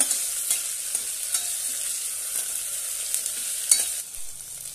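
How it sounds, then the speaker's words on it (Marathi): Chopped tomato sautés in oil for vangi bhat with a continuous crackling sizzle and light stirring scrapes close by. "टोमॅटो उभा चिरून घेतलेला आहे तो घालूया आणि छानपैकी तेलामध्ये परतून घेऊया"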